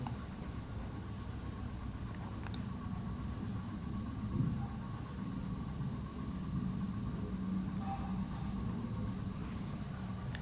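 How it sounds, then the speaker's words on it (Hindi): Chalk or marker scratching on a board as a teacher writes out a Class 12 continuity and differentiability solution, soft intermittent strokes in bursts over steady room hiss, no talking. "मैं एक बार पूरा लिख के दिखा रहा हूँ"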